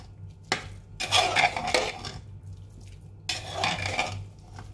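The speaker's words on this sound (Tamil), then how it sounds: "ஆனா நெய் ஊத்தி கிண்டிடும்." A spoon scrapes and clanks around a pot of pongal just after ghee is poured in, two bursts of metallic stirring with a short pause between them, close up and with no talking.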